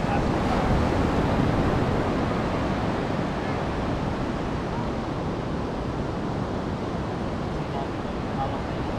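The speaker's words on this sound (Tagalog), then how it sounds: "Yan ang dagat, anak." Sea waves on a coast in Japan give a steady, loud broadband wash of surf mixed with wind buffeting the microphone, continuous throughout with no distinct breaks.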